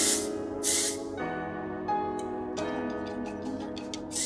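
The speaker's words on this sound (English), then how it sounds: "hold it a couple inches away, and mist it all over, all around" Dry texture hair spray misted in short, breathy hissing bursts near a head of curled beach-wave hair, a few quick sprays against a quiet, tonal room background with no talking.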